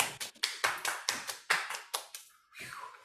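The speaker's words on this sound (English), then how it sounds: "We do rounds of applause." A group claps together at a school demo day, about ten sharp, evenly spaced claps in quick rhythm, then a short burst of higher, scattered clapping at the end.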